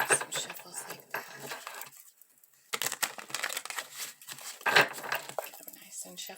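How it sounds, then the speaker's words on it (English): Tarot cards being shuffled by hand, a close series of crisp riffling and slapping bursts with a brief pause midway, papery and irregular in rhythm. "Let's do some shuffles like that."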